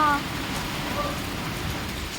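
Steady rain patters down evenly, a soft continuous hiss with no voices.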